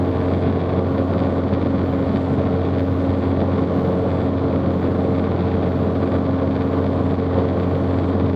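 A Zenith CH 750 Cruzer light aircraft fitted with a 64-inch Sensenich propeller runs at 2700 RPM in level flight, a loud, steady, unbroken engine and propeller drone heard from inside the cabin, with no talking.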